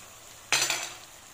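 Eggs are added to a pan of zucchini shakshuka cooked in garlic, spices and tomato, giving a single sudden burst of sizzling hiss that quickly fades, with a faint metallic clink and no talk.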